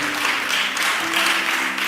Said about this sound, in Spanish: Da un aplauso para ese nombre glorioso.